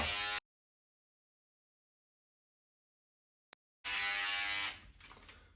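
An electric hair clipper set to a 2.5mm grade trims a beard, giving a close, brief buzz at the start and a second buzz of about a second that then fades, separated by silence.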